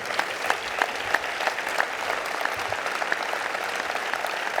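Applause at an exhibition opening: a crowd claps steadily and evenly throughout, moderately loud, with scattered sharper individual claps standing out from the general patter.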